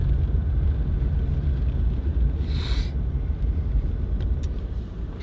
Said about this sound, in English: Let's keep on driving.